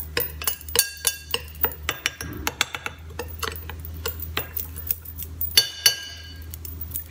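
Milk being mixed in a bowl with a utensil before going into a jar, heard as a string of light glassy clinks and taps, fairly close, with a faint steady hum underneath and no talking.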